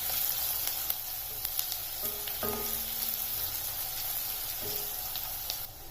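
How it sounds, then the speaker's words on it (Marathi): Onion sautéing in a pan for a fenugreek thecha, with a steady close sizzle and a few soft stirring clicks, no voices. "कांदा आता थोडासा आपण गुलाबी होईपर्यंत परतवून घ्यायचा,"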